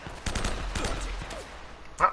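Gunfire in the video game Uncharted: Drake's Fortune, several quick shots and bursts fired in close succession at moderate loudness, ending with a brief sharper crack.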